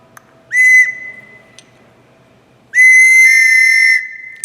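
A homemade whistle is blown in two clear toots, a short one and then a longer sustained blast with a bright, shrill steady pitch, loud and close with no talking.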